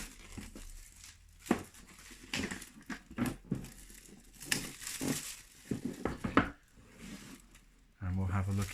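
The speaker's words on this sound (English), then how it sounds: "I haven't even got the cellophane off yet. So I'll just slip that open." Cellophane wrapping on a new model kit box of plastic miniatures is slit and peeled open, giving close crinkling and tearing bursts in an irregular rhythm, with a few sharp rustles.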